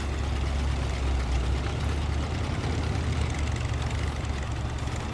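A tractor engine in the video game SnowRunner, driven through deep water, runs with a steady low rumbling drone close up and fairly loud for the whole stretch, with no talking over it.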